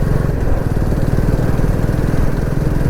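An auto rickshaw engine runs nearby in Karnataka, giving a loud, even, throbbing putter with a fast pulsing rhythm and no talk.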